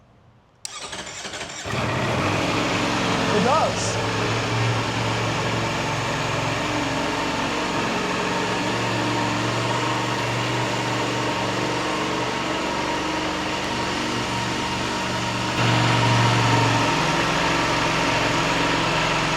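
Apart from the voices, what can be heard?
Ducati motorcycle engine starting and idling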